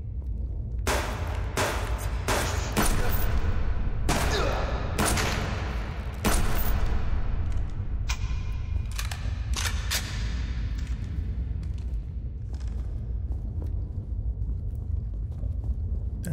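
Gunfire in the survival video game Subsistence, heard during a lava cave expedition: a rapid fusillade of sharp, loud shots cracking in irregular bursts across the whole stretch, over a steady low rumble.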